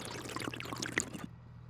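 Water pours and trickles in the Farming Simulator video game as a tank is rinsed, a short close splashing stream that cuts off abruptly, leaving a low hum.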